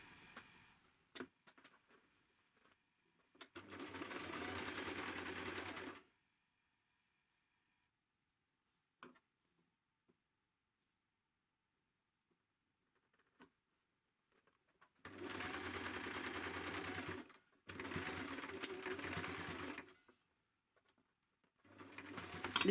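A sewing machine stitches the front buckle of a pinafore dress in three steady mechanical bursts of a few seconds each, separated by near-silent pauses.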